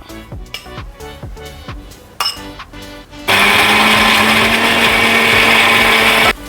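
A mixer grinder grinds curry masala with coconut for a rambutan curry, starting with some knocking and clatter before a loud, steady motor whir sets in and holds for several seconds.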